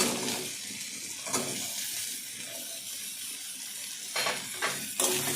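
Steady frying sizzle crackles from a pan of potatoes throughout, with occasional scraping and stirring noises rising briefly above the hiss.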